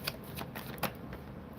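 A deck of tarot cards being shuffled up close, with quick papery riffles and soft card slaps in a few distinct bursts over a continuous shuffling rustle.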